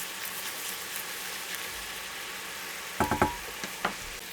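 Corn syrup for fried eggplant gangjeong simmers and reduces in a pan, giving a steady close sizzling bubble with a few sharper pops near the end.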